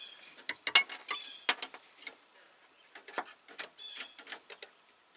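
A wrench tightens a half-inch brake line nut on a 1993 Jeep Cherokee: sparse, close metallic clicks and ticks in short irregular clusters, fairly quiet, with no talking.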